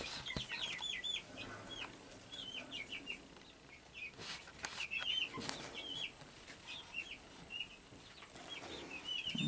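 Young chicks in a new enclosure peep and cluck in quick high chirps throughout, with occasional soft wing flaps, close by and fairly faint.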